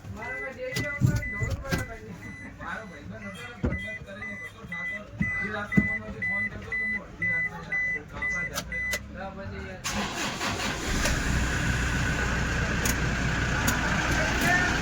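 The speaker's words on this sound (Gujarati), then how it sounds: "ગાડી ચાલુ કરી દીધી છે" A car engine fitted with a new clutch bearing cranks and catches about two-thirds of the way in, then runs with a steady, fairly loud rumble. People talk over the quieter stretch before it starts.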